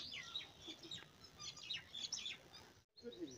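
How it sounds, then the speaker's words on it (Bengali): Small birds chirp and twitter in rapid, overlapping bursts in a quiet rural setting near lemon trees and rice fields, moderately close, with a brief gap near the end. "শুধু পাখির কিচিরমিচির আওয়াজ শুনতে পাওয়া যাচ্ছে।"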